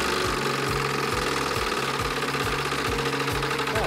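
A game show prize wheel spinning, giving off a fast, steady stream of rhythmic ticks with a droning undertone, loud and continuous, with no talking.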